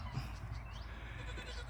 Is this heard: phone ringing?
no